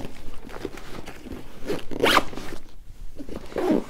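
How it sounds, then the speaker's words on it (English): A Vanquest backpack being zipped shut, with several short, raspy zipper pulls in quick succession, close and clear and with no talking. "I'm going to go ahead and zip this up real quick here"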